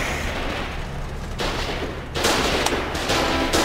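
A gun turret firing in the video game Foxhole during a base assault: repeated loud blasts and bursts of gunfire with sharp onsets, growing louder and denser toward the end.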